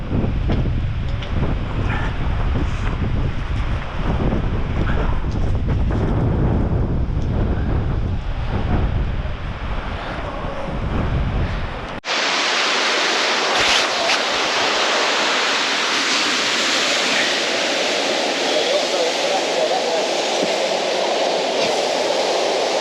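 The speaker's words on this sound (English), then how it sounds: "we've reached the waterfall at Malham Cove" Waterfall at Malham Cove in wet, windy weather, a steady broadband rush of falling water mixed with heavy wind buffeting on the microphone, loud and continuous, turning to a smoother hiss partway through.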